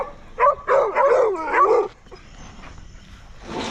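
Pet dogs at home give a burst of close, excited barks and yips, then whimper more quietly before the noise fades.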